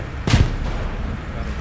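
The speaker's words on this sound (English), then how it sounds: "there's a fucking tank fight going over this trench system right now" A single loud, deep boom with a short rumbling tail cuts through steady battle noise during a tank fight over a trench system in the World War II game Hell Let Loose.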